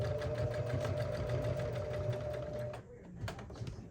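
A sewing machine stitches a one-inch fold on a fabric tote bag in a steady, rapid mechanical whir for nearly three seconds, then stops, leaving faint clicks while a voice talks quietly.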